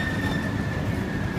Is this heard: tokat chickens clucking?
no